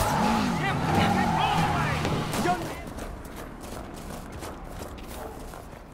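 Video game cars are driven recklessly, with a loud revving engine whine that sweeps up and down in pitch, then gives way to a rougher road roar and scattered thumps as voices murmur faintly underneath.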